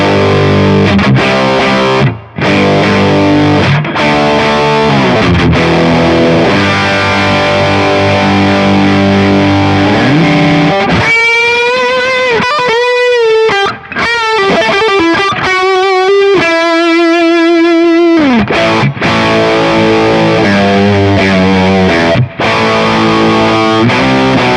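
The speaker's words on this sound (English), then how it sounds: "This is the best tone so far that I've gotten out from combining or stacking the distortion stomps" Electric guitar played through stacked fuzz and distortion stomp effects on a Kemper profiling amp, loud and saturated with sustained chords and a bright, wavering single-note passage midway, no talk.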